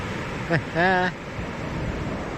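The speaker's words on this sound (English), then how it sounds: "What a fantastic time to be walking on the beach." Steady surf washing onto the beach at Happisburgh on the Norfolk coast makes a continuous broadband roar, with wind buffeting the microphone and a brief tonal vocal sound early on.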